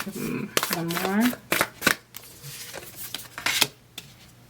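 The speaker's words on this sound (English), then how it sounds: "We're gonna accompany these with these cards, which I've already pre-shuffled these pretty well, but one more." Tarot cards are shuffled by hand in quick riffling bursts. The soft, close-up shuffles are interleaved with a person talking.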